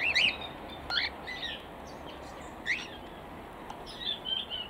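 Small birds chirp in an aviary housing quail, giving scattered short tweets and calls in bursts over a quiet background hiss.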